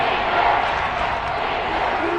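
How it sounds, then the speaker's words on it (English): Dense, steady roar of a stadium crowd in a football video game between Jacksonville and Kansas City, swelling slightly early on and holding loud and continuous ahead of a big third down, with no voices rising above it. "The crowd getting into it as we come up on a big third down."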